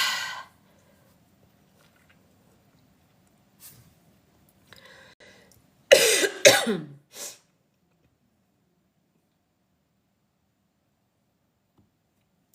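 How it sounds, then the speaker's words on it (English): After a mostly quiet stretch with faint shuffles, a person coughs in a short burst of two or three harsh expulsions close by. "sorry about that. I had to cough."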